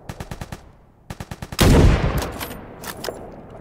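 Gunfire from a sniper rifle in a free shooter game: a quick series of evenly spaced shots, then a loud blast with a long rumbling tail and a few more distant shots.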